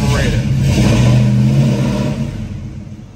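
A carbureted 4-door G-Body Cutlass engine cranks and revs up close by, a loud low rumble that swells and then eases off, with talk over it.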